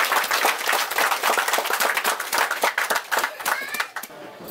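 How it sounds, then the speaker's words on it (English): Audience applause at a health campaign presentation of a free medical program, a dense burst of many hands clapping fairly close, steady for a few seconds and then thinning out at the end. "So we'll clap hand for that."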